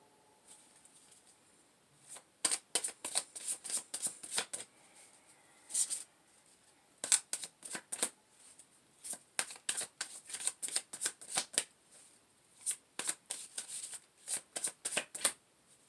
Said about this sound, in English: I'm having a hard time pulling a card for you guys